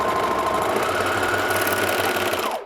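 A sewing machine runs steadily as it stitches fabric along a seam edge near an inseam pocket, giving a close, loud, continuous mechanical whir that stops abruptly at the end.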